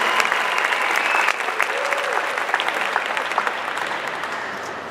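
Sustained audience applause fills a hall at a Brazilian Mobiliza Brasil 2019 gathering, dense and steady throughout and easing slightly toward the end.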